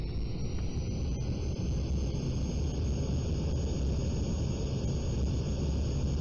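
A fixed-wing airplane engine at full throttle in the AeroFly FS2 flight simulator: a steady, loud, unbroken drone with a dense low roar and a faint high whine, running alone with no voices.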